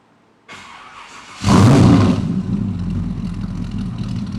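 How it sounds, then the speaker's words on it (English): Near silence, then a starter cranks briefly before a 1937 Chevy Coupe engine catches on a cold start with a loud burst and settles into a rough, rumbling idle. "If you're interested in what this car really sounds like, well, here's a cold start for you."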